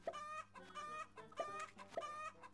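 Steady, rhythmic clucking from chickens in a Roblox egg farm simulator game, several loud close calls repeating roughly every half second with no talking.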